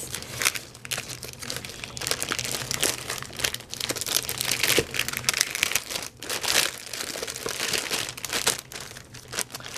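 An iridescent clear plastic goodie bag crinkles steadily as it is handled close up, giving dense rustling and crackling with sharper crunches throughout, with no talk over it.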